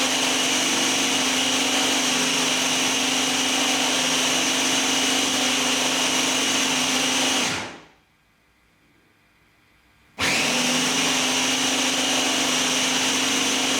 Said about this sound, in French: Puis vous allez ensuite ajouter dans un mixeur les morceaux de patates douces et le beurre que vous allez ensuite mixer.